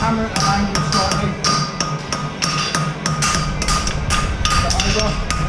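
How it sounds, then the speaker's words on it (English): Repeated hammer blows on hot metal at a blacksmith's anvil while forging a concave horseshoe front, struck in an uneven rhythm of sharp close taps with a voice talking under them. "hold it upright, bring the hammer at the angle slightly."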